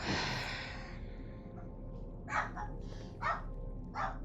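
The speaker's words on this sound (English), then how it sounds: "Please excuse the dog barking." A pet dog barks indoors in a home, three or four short sharp barks spaced about a second apart, moderately close, over a low room hum and game background sound.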